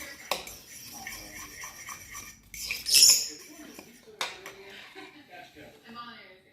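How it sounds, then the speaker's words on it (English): Meatloaf mixture being stirred in a bowl with a utensil, producing soft scraping clinks and squelches while a person talks over it. "We're just stirring that up, just to mix it well."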